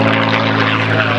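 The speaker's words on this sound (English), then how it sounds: "the flute-like tone generated from the 3 machine gun ports in each wing" A P-51 Mustang makes a loud, close flyby at an airshow, its roaring propeller engine carrying a steady flute-like whistle from the machine gun ports in its wings.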